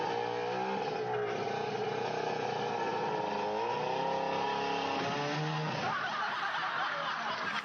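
A car engine revs hard at full throttle, played back from a video, with a loud, sustained roar whose pitch rises and falls across the whole stretch before easing into rougher noise near the end.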